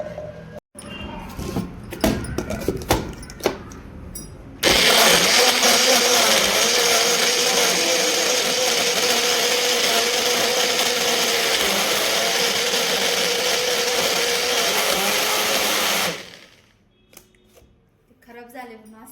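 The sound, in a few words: mixer grinder grinding failed candy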